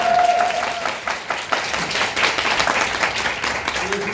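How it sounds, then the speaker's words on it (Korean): Audience clapping at a live magic show, a short burst of scattered applause at moderate loudness with a voice briefly heard over it. "박수 한번 주세요"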